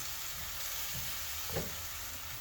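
Lemon juice gets stirred into garlic meatballs sizzling in a pan, a soft, steady frying hiss with a brief scrape of stirring partway through and no voices.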